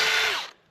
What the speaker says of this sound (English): this drill bit. We're gonna stick it in the hole here, and we're gonna go wide open with it.